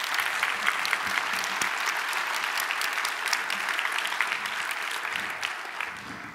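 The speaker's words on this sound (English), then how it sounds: "So another round of applause" Audience applause at an open source awards ceremony, sustained clapping from a sizeable crowd for several seconds at moderate level.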